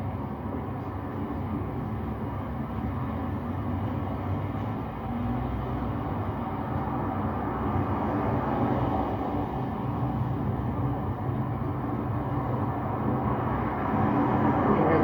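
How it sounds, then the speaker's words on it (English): A continuous low rumble of a subway train passing beneath the street, steady and muffled, gradually growing a bit louder toward the end. "Subway rolling underneath."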